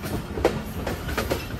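The 104 Down Subak Kharam railcar approaches Jhelum railway station in Punjab, its wheels giving a steady rumble and a rhythmic clickety-clack of several evenly spaced knocks over the rail joints.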